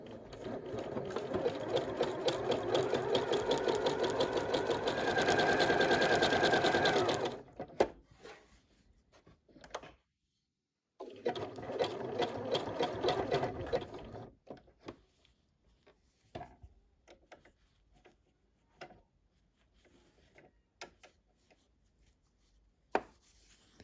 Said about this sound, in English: I'm just going to start stitching that down.